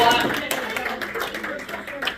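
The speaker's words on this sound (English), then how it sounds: "First time in 20 years, round of applause" Guests at a school junior varsity basketball banquet break into clapping. A voice is heard briefly at the start, then scattered, moderately close applause follows and tapers off.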